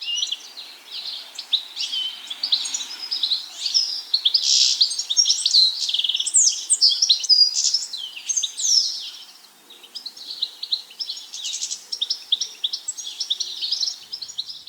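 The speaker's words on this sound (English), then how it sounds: "Goldfinches are starting to sing their beautiful trilling songs around now." Goldfinch sings bright, rapid trilling phrases of twitters and tinkling notes, fairly near and continuous with a brief pause, over a quiet background.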